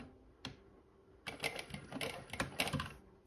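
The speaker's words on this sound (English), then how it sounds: "So I'll just run a couple of stitches here." A JACK H2 industrial sewing machine runs a couple of stitches and a back tack. A rapid, rattling mechanical stitching burst starts sharply after a lone click and continues at close range, with no talking.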